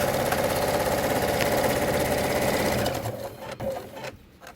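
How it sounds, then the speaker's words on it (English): A sewing machine stitches a folded fabric face mask, a loud rapid steady whirring hum close by that slows and stops toward the end. "place your mask in between the folds, and sew it down."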